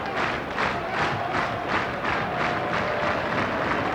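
Rugby match crowd at Leicester Tigers v Bristol in 1995, a large stadium audience chanting and cheering in a pulsing, rhythmic roar that stays loud throughout.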